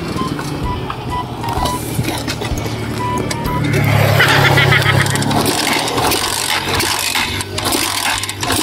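A motorcycle engine with a fault that keeps stalling is cranked over and over but fails to catch, giving a rough mechanical churning that swells in the middle, with a person speaking at times.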